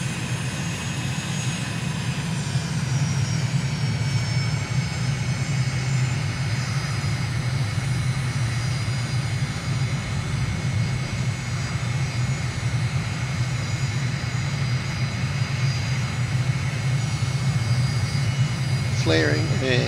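Steady aircraft engine roar from a simulated airliner landing in Microsoft Flight Simulator at Malabo, Equatorial Guinea, a loud continuous drone with high whine running through flare and touchdown, with a brief clatter near the end.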